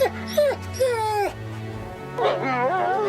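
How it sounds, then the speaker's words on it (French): A wolf yips and whines in a run of high, wavering cries and short squeals, fairly close, with brief pauses between calls over a low steady background. "Le loup a de nombreuses façons de communiquer avec ses congénères. Il peut japper, hurler, aboyer ou bien encore gémir."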